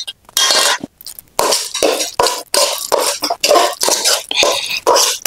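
A spoon scrapes and clinks against a pan as spicy village-style onion garlic chutney is mixed, in about a dozen brisk, rhythmic strokes separated by short pauses, close and clear.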